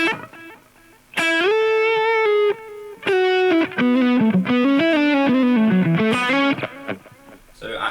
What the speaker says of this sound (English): I'll just turn off the reverb so you can hear just the delay.